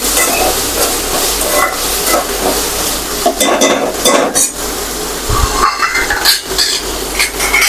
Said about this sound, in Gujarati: તો તેને બરાબર તેલમાં ચડવા દેશું